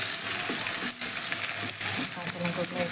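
Onion and green chillies frying in hot oil, a dense continuous sizzle close by, broken by brief stirring scrapes and a faint voice in the background.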